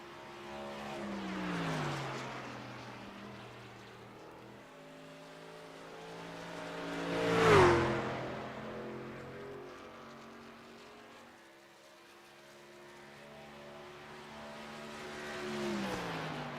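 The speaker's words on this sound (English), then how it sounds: "Devin Butchino now makes his way out onto the racetrack and down the backstretch" Racing truck engine in an iRacing qualifying run, droning as it approaches, roaring loudly past up close around the middle, then fading down the backstretch before building again.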